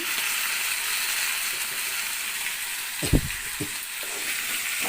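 Tomato pieces cook with cauliflower in a pan for a cauliflower chutney, giving a steady soft sizzle with a couple of brief knocks partway through.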